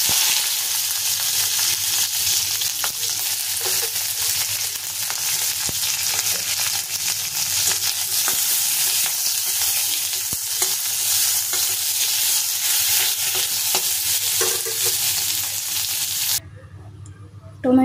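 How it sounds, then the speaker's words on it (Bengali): Capsicum pieces sizzle steadily in a hot pan for chilli paneer, a continuous close frying hiss with occasional stirring scrapes, cutting off abruptly near the end. "এবার ক্যাপসিকামগুলো একটু ভেজে নেব"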